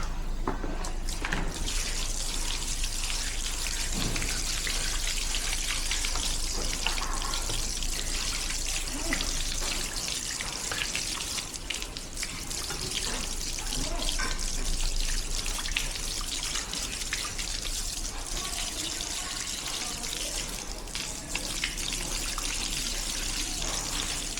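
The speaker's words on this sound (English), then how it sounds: "Now you want to give it a final brush down while rinsing it with water." Steady running water splashing and trickling continuously as a bike is rinsed, with faint scrubbing from a brush under the flow and no talking.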